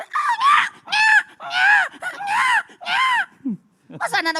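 A voice imitates a newborn baby screaming, letting out five loud, rising wails in a row with short gaps, followed by a brief breath and a burst of laughter or speech.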